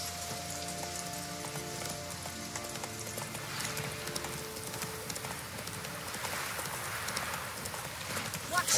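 Horse hooves clip-clopping at a gallop in The Witcher 3, a steady rhythmic beat under game music and ambient sound, with speech also present.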